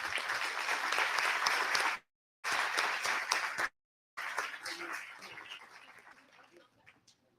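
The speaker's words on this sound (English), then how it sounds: "I request everyone to give a cheer clap." Audience applause after a call for a cheer clap at a Memorandum of Understanding event, loud dense clapping in bursts broken by two abrupt gaps, then trailing off and thinning toward the end.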